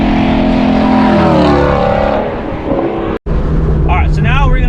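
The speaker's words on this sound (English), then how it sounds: "So we're gonna get some acceleration shots with the 350." A Shelby GT350 with a manual gearbox accelerates hard from a roll, its engine note loud and close and rising in pitch through the revs, with a brief cut and then more revving and a person speaking.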